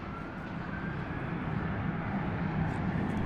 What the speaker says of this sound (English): we have another Spirit flight actually on the way out